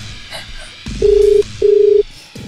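Two touch-tone keypad beeps sound as a phone number is dialed, each a steady, clear tone lasting under half a second, separated by a short pause, close and loud with faint background noise around them.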